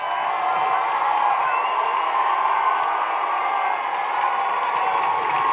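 A large political rally crowd in Cedar Rapids, Iowa, cheers, whoops and applauds in a steady, loud, unbroken roar that carries on throughout, with scattered shouts rising above the clapping.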